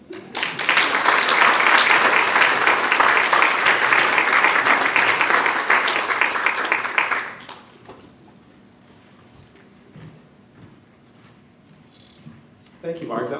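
Loud applause from a library storytelling audience at a storyslam, a dense steady clatter of clapping for about seven seconds, then dying away into quiet room tone with a few faint scattered sounds.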